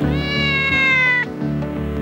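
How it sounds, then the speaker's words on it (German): A cat, the pet of US President Bill Clinton, gives a loud, close, drawn-out meow with a falling tone, then a shorter second call, with no voices. "Und auf Wunsch Billys Katze lauschen?"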